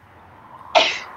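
A man sneezes once, a sharp, loud burst outdoors where pollen is thick, rising abruptly from quiet background hum and trailing off over a fraction of a second.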